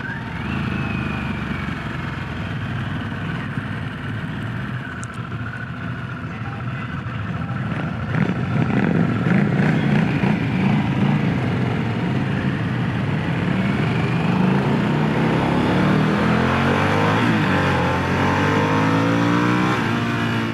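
A Harley-Davidson Sportster S motorcycle engine revs, a loud close rumble that swells into sustained higher revving through the second half, heard alone.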